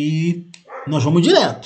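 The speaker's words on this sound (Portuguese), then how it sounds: "vocês devem estar ouvindo um cachorro latindo" A dog barking in a home, with a few yips and whimpering rising and falling, mixed under someone speaking nearby.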